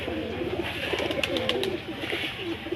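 Pigeons cooing softly and repeatedly at close range, a series of low rolling coos over a quiet background hum.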